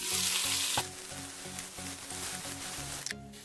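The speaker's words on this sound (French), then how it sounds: "je vais rajouter alors 2 cuillères à soupe d'huile et mettre mes oignons" Onions sizzle loudly in freshly added oil in a pan for chicken with mustard and onions, a steady close frying hiss broken by light rhythmic scraping of a utensil, with no talking.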